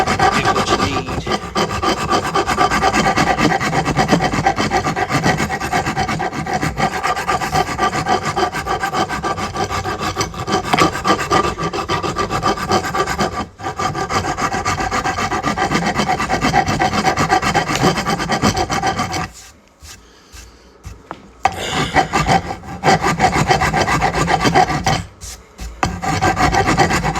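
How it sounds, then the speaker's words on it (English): A rasp grinds over a circular wooden edge in steady, rapid back-and-forth strokes, loud and close. It breaks off for a moment before scraping on again, with no one speaking. "rasp this down here"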